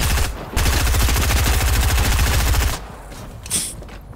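A rapid, evenly spaced burst of automatic gunfire in Fortnite rattles for about two seconds, then cuts off, leaving quieter scattered sounds.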